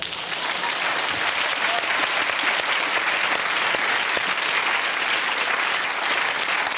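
Sustained audience applause fills the whole stretch, a dense steady wash of many hands clapping at even loudness, heard on its own without talk, during a UK television panel show studio recording.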